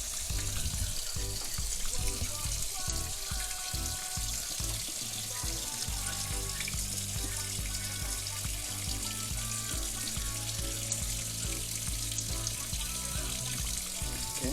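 Water in a cooking pot, with chicken ballotines and stock, comes back toward a boil, giving a faint continuous bubbling and trickling wash with light clinks, steady and fairly quiet throughout.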